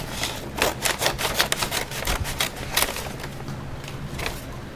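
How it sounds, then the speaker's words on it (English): Crisp snipping and crinkling of a large paper bag cut with scissors, a series of quick sharp cuts in an irregular rhythm, close by. "She took scissors"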